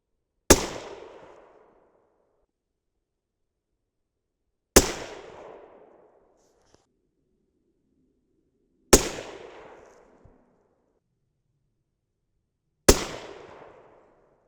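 Four loud, sharp 6.5 Creedmoor rifle shots fired with 129 gr Nosler AccuBond Long Range loads, evenly spaced about four seconds apart, each with a short decaying echo and silence between.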